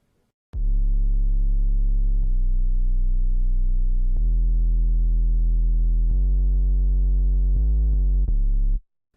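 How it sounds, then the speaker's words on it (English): A simple, deep sub-bass synth from the Strobe synthesizer plays a handful of sustained low notes, each starting with a soft click, loud and alone with no talking. "the sub bass has come in, which is just a real simple sub sound out of the strobe"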